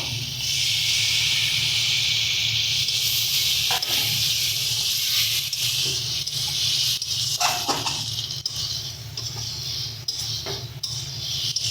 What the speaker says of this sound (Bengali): মাছটা দিয়ে ভালো মতন করে মিশিয়ে অল্প অল্প করে জল দেবো